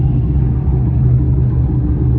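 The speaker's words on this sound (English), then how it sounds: "I think it's got an exhaust leak up in here somewhere." A drift tow truck with an exhaust leak, its engine running close and loud as a steady deep rumble, thick and unbroken throughout with no speech.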